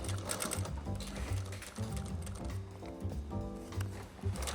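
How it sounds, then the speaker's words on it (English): A sewing machine runs steadily, stitching fabric scraps together for a koozie and finishing with a couple of back stitches; the motor hum and rapid needle rhythm continue close and loud throughout with brief changes in pace. "finish off the rest of the stitch. Couple back stitches to hold it down."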